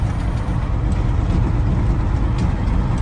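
A tractor disking the edge of a field rumbles steadily, its heavy low engine drone and broadband mechanical noise holding even and close throughout, with no voices.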